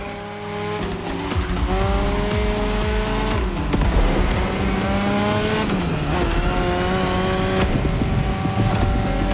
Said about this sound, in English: Damn, these turns are sharp. You gotta drift through these, Shingo.